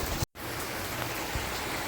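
Steady rainfall drums on surfaces around a village house, the first rain of the season, a dense continuous patter with one brief dropout near the start.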